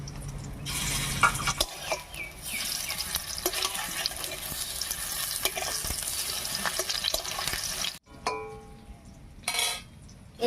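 Banana stem fritters fry in hot oil, a continuous close sizzle with stirring scrapes, broken near the end by brief clatter and a short running-water burst.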